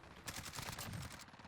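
Automatic fire from a CR-56 AMAX rifle in Modern Warfare crackles as a rapid, evenly spaced burst of about a dozen shots, loud and close, lasting just over a second.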